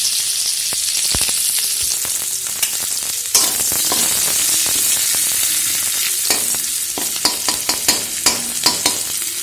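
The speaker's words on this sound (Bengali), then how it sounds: "কড়াইতে তেল দিলাম আর তেলটা গরম হয়ে গেছে। এখন আমি পেঁয়াজ কুচি দিয়ে দেবো" Coarsely chopped onions fry in hot oil in a wok, giving a loud, steady sizzle with scattered clicks and stirring scrapes throughout, with no talking.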